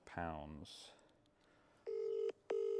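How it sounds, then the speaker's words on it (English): A mobile phone dials a stored number, producing two steady electronic dial tones in quick succession, each held for around half a second, following a short burst of speech. "I've got Laura Bennett's phone number in this phone"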